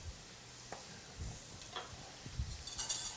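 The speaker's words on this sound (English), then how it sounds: "I'm sweating the onions, which means I'm getting them to be translucent, but I am not browning them" Onions sweat in melted butter in a pan with a soft, steady sizzle, broken by a few gentle stirring scrapes and taps, close and quiet.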